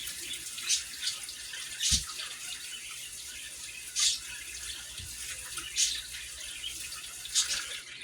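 Cooked pasta rinsed under a running kitchen tap, with a steady stream of water and intermittent splashing bursts and sloshes as the noodles are moved, close and moderately loud.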